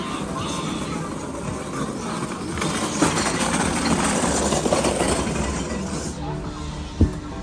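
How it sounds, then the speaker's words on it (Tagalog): Taxis and other traffic pass along a busy nighttime street in the Dotonbori area of Osaka on Halloween, a continuous rumbling wash of engines and crowd noise with a sharp clink near the end. "Daming taxing dumadaan dito."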